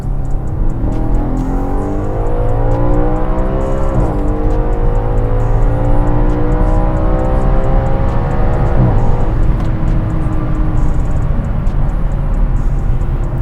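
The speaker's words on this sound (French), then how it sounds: "une petite accélération ici." A V8 car engine, rated at 450 horsepower and turbocharged, revs up in a steady, loud run with rising harmonic sweeps as it accelerates, dipping near four and nine seconds between pulls, with no talk over it.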